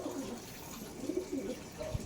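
Pigeons in a breeding loft give soft, low coos that repeat a few times over steady background noise. The sounds are faint and fairly close, and no one speaks.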